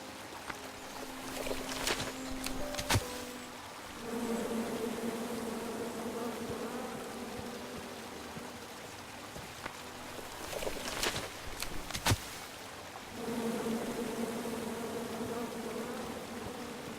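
Angry bees swarming around a tree in the King's Quest video game, a dense, steady buzzing drone that swells in two long bursts, broken by sharp clicks and clatters.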